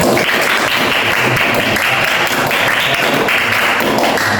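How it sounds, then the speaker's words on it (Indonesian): Classroom audience of students applauding in a steady, loud burst of dense clapping that holds evenly for several seconds, close and unbroken. "Cukup? Oke, terima kasih tepuk tangan."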